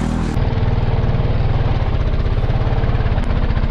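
A motorcycle engine runs on a rough off-road trail in Jumla, a loud, close, steady mid-pitched drone with a brief dip near the start and no talk.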